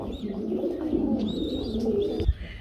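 A pair of pigeons coo close by in low, soft, rolling calls that run continuously, with a few faint chirps mixed in and no talking.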